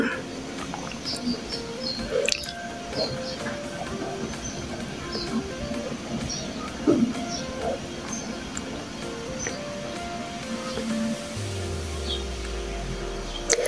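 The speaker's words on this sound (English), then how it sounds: "I'm just stitching where the elastic waistband is going to be" A sewing machine stitches fabric along the line for an elastic waistband on boys' shorts, giving a rhythmic mechanical whirring and clatter in runs with small pauses, moderately loud, with a lower motor hum rising near the end.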